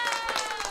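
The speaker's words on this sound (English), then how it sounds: "hit the applause button" Applause sound effect fired from the applause button in Ecamm Live software, a short burst of dense clapping at steady loudness throughout.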